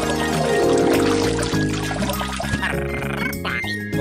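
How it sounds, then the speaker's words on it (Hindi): Water is poured out and wasted in a Hindi cartoon, a loud gushing splash up front that gives way to musical sound effects and a bouncy score. "पानी बहुत कीमती चीज है, इसे बर्बाद मत करो सुप्ति।"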